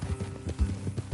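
Horse hooves clip-clop at a steady walking rhythm in the Red Dead Redemption 2 video game, moderately close and soft, with a quiet ambient bed beneath.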